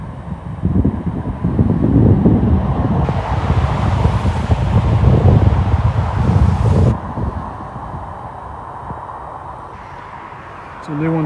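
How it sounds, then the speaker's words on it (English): Icy wind gusts across the frozen Norfolk Broads, roaring and buffeting the microphone in a loud, rough rush for several seconds before easing to a quieter breeze, with a voice speaking over it. "Nasty icy wind straight up my face."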